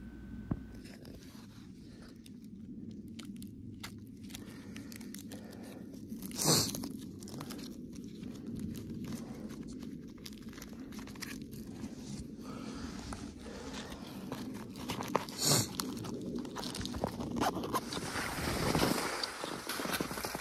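Fischer Easy Skins climbing skins being peeled off skis outdoors: several sharp ripping tears over a steady background of wind and rustling, with no voices.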